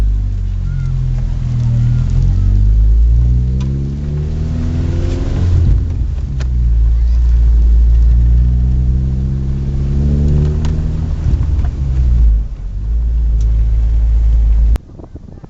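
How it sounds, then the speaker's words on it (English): A manual-transmission car revs up and pulls away in first gear, the pitch climbing through gear changes as it accelerates, loud and close, then cuts off abruptly. "put the car in first gear, give it a little gas, and then you're off"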